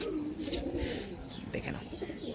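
Soft, low cooing from a female pigeon repeats through the clip with a steady murmur of background noise and faint chirps.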